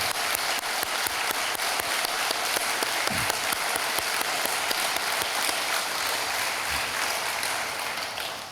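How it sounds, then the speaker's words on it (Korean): Warm applause from a church congregation at a dawn prayer service encourages the men's mission group. It is a thick, rain-like roar of many hands that holds steady for several seconds, then eases slightly at the end. "우리 뜨거운 박수로 격려하도록 하겠습니다."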